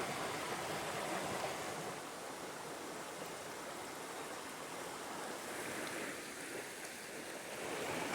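Steady rushing water from a small waterfall at a remote swimming hole, like a small cascade or stream, fills the scene evenly and continuously at moderate loudness, with no voices.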